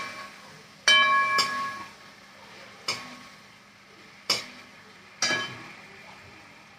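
A thick curry with chili and ginger paste, cooked down in a pan, stirred in slow strokes, each giving a sharp close scrape of the spatula that fades under a light sizzle, four or five times.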